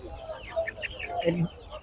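Chickens cluck and chatter at a rural poultry market where hens and ducks are sold, short soft clucks close by over low background murmur.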